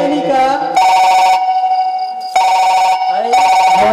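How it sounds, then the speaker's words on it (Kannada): An old-style telephone bell rings loudly in bursts, with two long ringing stretches separated by a short pause, on a village stage drama, with voices briefly heard between rings. "ಮೋನಿಕಾ ಫೋನ್ ಬಂತು"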